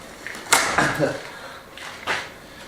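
A freshly cut wooden door is flipped over on a farmhouse restoration site, giving a few knocks and scrapes of wood in a short cluster, followed by one more thud near the end, with a voice talking over it.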